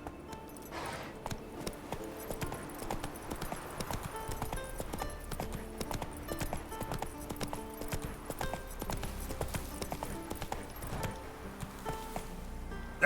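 Roach, a horse in The Witcher 3, gallops steadily with rhythmic clip-clop hoofbeats over a continuous game soundscape and music, closing with a brief louder hit.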